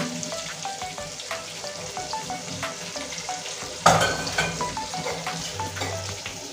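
Potatoes frying in a pan with turmeric, chili powder and coriander powder, a soft continuous sizzle with repeated light scraping strokes of a spoon and one louder clatter midway, close by with no voices.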